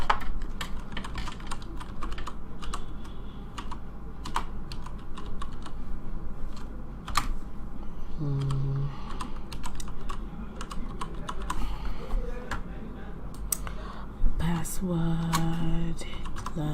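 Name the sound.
typing a password on a computer keyboard to log in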